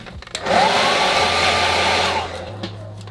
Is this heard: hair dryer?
yes